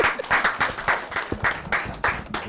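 A studio audience at a Nigerian talk programme claps in rhythmic bursts, roughly two beats per second, close and fairly loud, with no talking over it.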